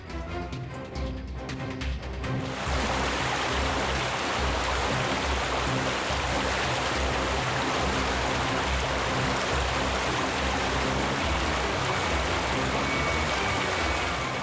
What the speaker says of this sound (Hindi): लो लो, आ गए वाटरफॉल पे।